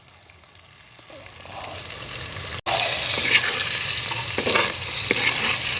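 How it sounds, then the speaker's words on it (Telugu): Dried fish, pappulsu style from Nellore, frying in plenty of oil gives off a soft sizzle that jumps to a loud, steady crackle after a brief break, with stirring scrapes mixed in and no talking. "ఎండు చేపలు వేయించుకోవాలి"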